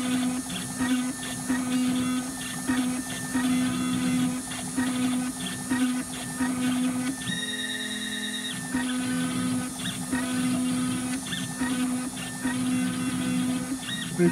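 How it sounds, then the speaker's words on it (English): A diamond-tip cutter on an engraving machine works an aluminium trophy cup base, giving a continuous high whine and buzz with a steady mechanical hum and regular pulsing changes as it cuts. "what the machine is doing is obviously rotating and it's cutting into the metal"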